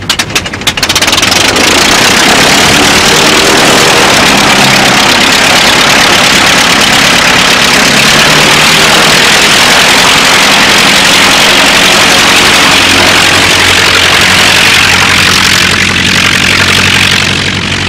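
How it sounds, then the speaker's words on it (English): A vintage aircraft engine cranks and catches, then runs loud and steady but slightly rough for the whole stretch, its low, uneven throb filling everything with no voices over it. "That engine's running a bit rough, isn't it?"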